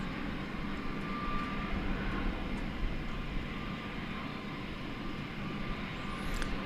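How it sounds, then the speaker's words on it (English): A Boeing 777 airliner bound for London Heathrow at Dallas Fort Worth airport gives a steady, broad engine roar from a moderate distance that holds constant throughout, with no talking. "should be the 777 going to London Heathrow"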